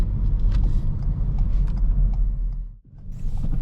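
Manual car pulling away during a hill start, a loud, steady low engine rumble with faint creaks that dips briefly near the end before resuming, heard close from inside the car.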